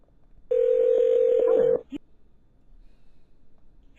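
A telephone keypad tone is pressed on a phone call. One steady, loud beep holds for about a second, followed by a faint click and quiet line noise.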